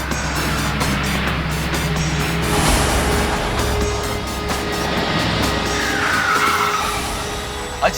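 A car skids to a stop in front of another car, a loud broad rush of tire and engine noise that swells and fades, with a rising squeal toward the end and a sharp thud at the close.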